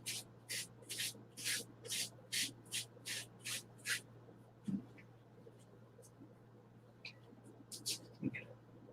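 Sandpaper is rubbed in a rapid series of about ten rhythmic, close strokes, ragging the edges of a piece, then pauses while someone speaks, with a few more strokes later.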